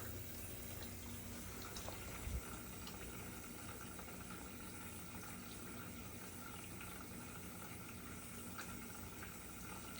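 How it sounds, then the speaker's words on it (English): A GE dishwasher fills with water, a steady low rushing hiss running unchanged throughout, with a faint click partway and no one speaking. "It's gonna fill up, then start to wash."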